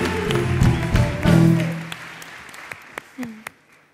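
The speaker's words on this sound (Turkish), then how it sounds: "Alkışlarla" Studio audience applauding on a Turkish evening talk show, a dense burst of clapping under a host's speech that thins out into a few scattered claps toward the end.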